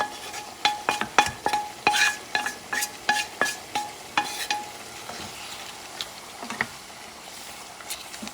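Black-eyed peas and duck giblets being stirred in a pot, a steady run of close scraping, clinking strokes in quick rhythm that thin out toward the end, with no talking.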